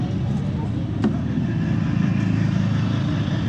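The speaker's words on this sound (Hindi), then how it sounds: "ये देखिए इस तरफ कितना ट्रैफिक हो रखा है।" Busy road traffic in Delhi heard from a Yamaha R15 V4 motorcycle, a steady broadband rumble of engines and tyre noise with a brief horn-like tone, constant and close throughout.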